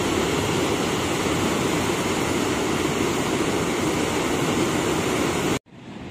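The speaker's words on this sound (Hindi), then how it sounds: "ऐसी आवाज है पानी की," Loud, continuous roar of water rushing through a full canal, a steady broadband wash heard close up that cuts off abruptly near the end.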